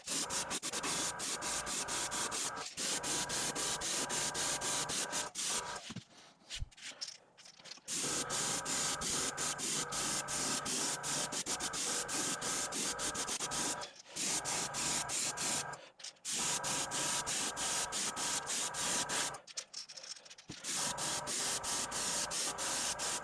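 Airbrush spraying black paint onto fishing lures, a steady loud broadband hiss running in long bursts broken by a few short pauses, close and continuous with no talking.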